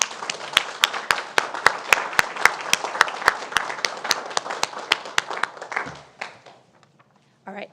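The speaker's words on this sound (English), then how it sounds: "Please join me in a round of applause." Applause from the audience at a school district governing board meeting, steady clapping from many hands lasting about six seconds and then fading out to near silence.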